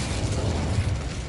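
Incendio fire spell cast in the Hogwarts Legacy game: a short, steady whooshing burst of flame with a low rumbling body, loud and close, with no talk.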